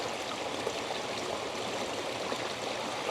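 Water flowing out through a garden pond filter, a steady broadband rush and trickle that stays constant and close throughout, with no voices.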